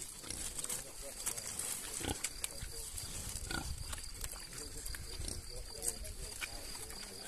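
Kunekune pigs on a central Portuguese farm grunt and snuffle close by while feeding, low rough bursts scattered through the clip beneath outdoor background noise and people talking.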